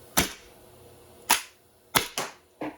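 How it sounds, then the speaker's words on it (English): A prototype HPA semi-automatic Nerf blaster fires darts in five sharp pneumatic pops at uneven intervals, the last three closer together, each a crisp burst with a short decay against near silence. "yep, that's shooting darts."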